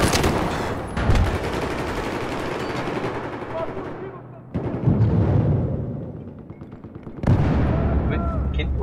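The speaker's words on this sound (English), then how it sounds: "Dude, that mortar's incoming." Battlefield 4 close-quarters match on Operation Locker with dense overlapping gunfire, heavy booming mortar impacts and blasts in rapid bursts, loud and chaotic, broken by brief quieter gaps and sudden loud resumptions.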